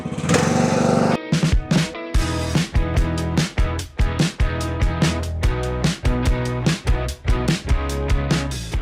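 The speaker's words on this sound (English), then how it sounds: "I had to even bring it up one because it was like shutting the mower off." Lawn mower engine running loud and steady, scalping a rough, uneven lawn, its drone dipping repeatedly in a rhythmic series of bogging pulses as the blades bite into the low ground.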